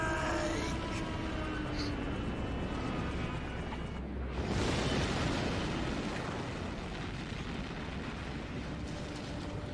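An explosion in the video game Metal Gear Solid rumbles as a loud, sustained roar for nearly ten seconds, with a surging burst partway through.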